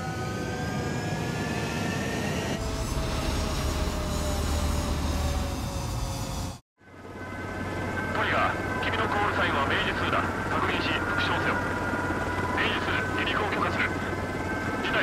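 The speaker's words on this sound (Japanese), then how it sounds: "明治隊の離陸急げ。" Fighter jets roar steadily on a runway during a scramble in the video game Ace Combat 7, a loud continuous engine drone that cuts out briefly and then returns, with radio chatter voices over it.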